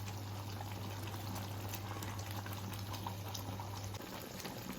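Stuffed eggplant curry, gutti vankaya masala, bubbles at a steady simmer in a pan on a home stove, a soft continuous boiling burble with low hum underneath, alone and fairly quiet.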